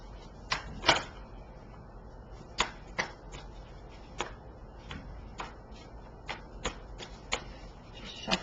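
Soft, quick tarot card shuffling: crisp riffles and taps at an uneven rhythm, close by and fairly quiet with no talking.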